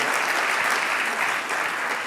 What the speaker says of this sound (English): Everyone give Steve a round of applause